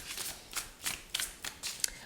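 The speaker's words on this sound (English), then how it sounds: "So let's shuffle these cards." Tarot cards are shuffled by hand in about seven quick, soft riffling bursts spaced at a regular rhythm. They sound close but quiet, and no one speaks.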